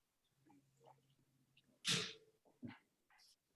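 A single sharp, explosive sneeze, preceded by a quick inhale, with a few faint shuffling sounds and small noises around it in a quiet room.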